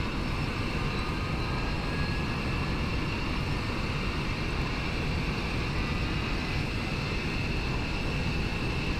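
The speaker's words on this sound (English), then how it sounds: "Just wait for that engine to stabilize." Hawker 4000 business jet engine starting up in the X-Plane 11 flight simulator, a steady, loud turbine roar and hiss with a faint rising whine, continuous and alone throughout.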